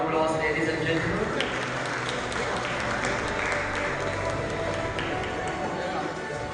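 Audience applause at a school Annual Commerce Day ceremony, a dense sustained wash of clapping from a large crowd, steady and loud across the whole stretch with some voices mixed in.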